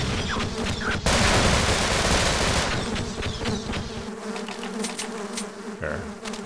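Buzzing, swarming bees fired from the hive-like bee gun in Half-Life's Sven Co-op mode, a dense insect drone with sharp rattling bursts under it, loud and continuous with game noise throughout.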